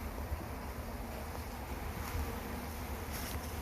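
Honeybees being installed in a hive make a dense, continuous buzz close by, steady throughout with no talking.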